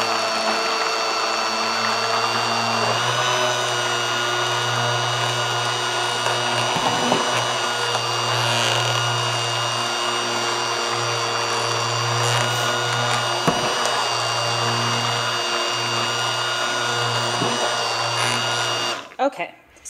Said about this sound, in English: I can increase the speed on my mixer and really get that mixed in there.